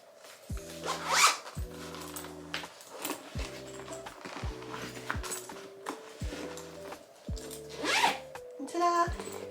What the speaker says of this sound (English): It all zips up nice and neat in there